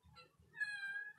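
A mother cat gives a single drawn-out meow, close and clear, rising and holding briefly after a couple of short softer sounds.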